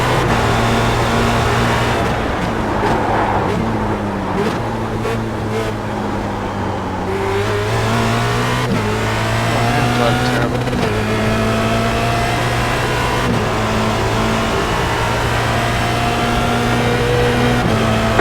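An FR2.0 race car engine in a racing sim drones loudly and steadily, its pitch climbing and dropping through repeated gear shifts and revs over a long stretch, with no talking.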